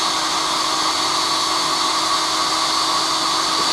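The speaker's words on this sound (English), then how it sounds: "we're drilling these pins out" Power drill running steadily as a 9/64 bit drills out 4 millimeter pins on a VEPR12 shotgun's fixed tubular stock, a continuous close, loud whine with no pauses.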